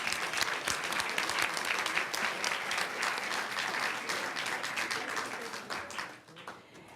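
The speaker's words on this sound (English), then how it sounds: "round of applause." Sustained, fairly loud applause from an audience at a school board meeting awards presentation, dense steady clapping that fades near the end.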